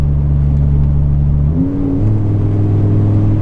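A Ford Econoline van's V10 drones loud and steady while climbing a mountain grade, its engine note shifting upward midway as the van accelerates, heard from inside the cab.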